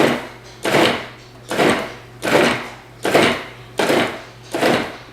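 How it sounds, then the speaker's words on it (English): A kitchen food processor pulses cold butter into flour for jam bars, six short even bursts of whirring motor, each about half a second long, spaced by brief pauses and heard close with no talk. "So we can pulse it like that, instead of just letting it blend."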